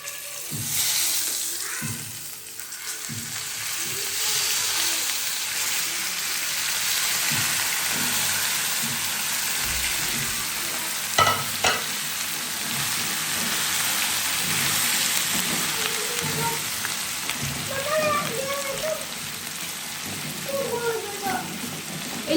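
Steady crackling sizzle of food frying in a hot pan, continuous and fairly close, with occasional clinks and faint background sounds over the hiss.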